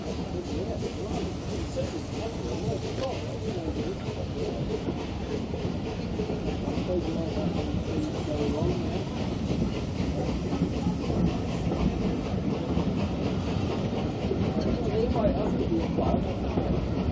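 A Bluebell Railway heritage train rolls along, a steady close rumble with rhythmic clickety-clack of wheels on the rails and a faint hiss, with voices talking at times.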